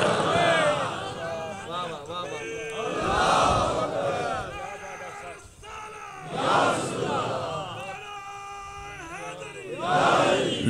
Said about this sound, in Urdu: لبیک یا رسول اللہ صلی اللہ علیہ وسلم کی صدائیں بلند ہو رہی ہے